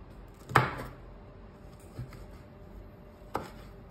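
A knife chopping garlic strikes a cutting board three times, spaced apart: sharp, close chops with quiet pauses between them.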